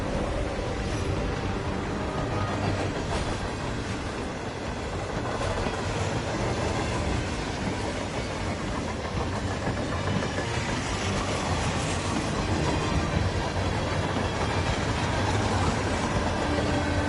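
Train rolling along rails in the game Hitman 3, a loud continuous rumbling roar with rhythmic clickety-clack of wheels over joints, steady and close throughout with no talk.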